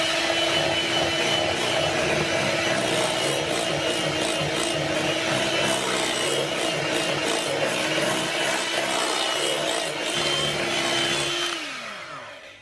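An electric hand mixer with beaters whirs steadily, whisking raspberries into a cream cheese mixture for a no-bake dessert. It makes a continuous motor hum with scraping as the beaters hit the bowl, then winds down at the end.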